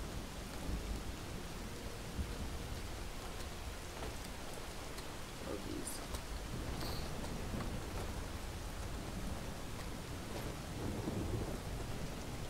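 Steady rain hisses across a stormy scene in the video game Relics of Hyrule, with rumbling low thunder underneath, a continuous dense wash of noise throughout.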